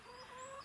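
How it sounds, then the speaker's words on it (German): A hen that is lame and paralysed in the legs clucks softly and briefly, a quiet, close, short burst with no talking. "darf ich vorstellen, das ist mein Huhn"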